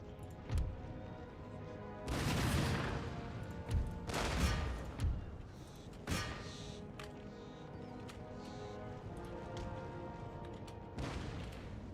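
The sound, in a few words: cannon fire in the video game Empire Total War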